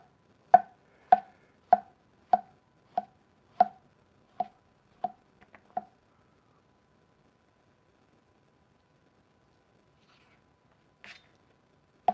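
A knife chops butter bolete mushrooms steadily on a cutting board, about ten evenly spaced close taps, then silence with a couple of faint knocks afterward.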